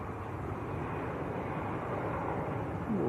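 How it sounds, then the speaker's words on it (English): An EasyJet Airbus A320neo from Amsterdam touching down at Manchester Airport, a broad steady roar of jet engines at a distance, unbroken and fairly even throughout. "EasyJet from Amsterdam, just touching down, there he goes."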